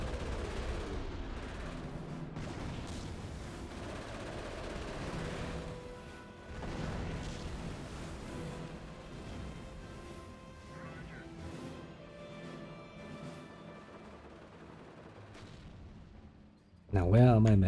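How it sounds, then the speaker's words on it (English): Howitzer shelling in a war video game, with repeated booming artillery blasts and gunfire rumbling through a dense, continuous battle mix, ending in a sudden loud burst. "Doing some nice shelling action with my howitzers."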